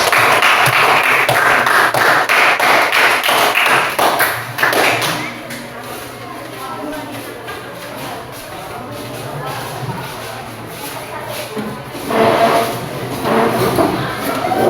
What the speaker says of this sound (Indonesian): tepuk tangan buat kelompok ini